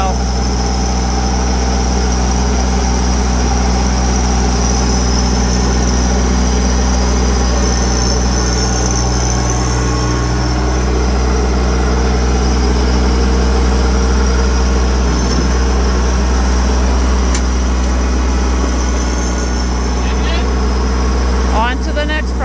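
A small tractor engine runs at a loud, steady idle with a deep, constant drone throughout, while pallet forks are used to move heavy loads.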